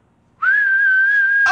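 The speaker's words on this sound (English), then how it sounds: "please whistle" A single steady whistle, loud and close, begins after a short silence and holds one pitch for about a second.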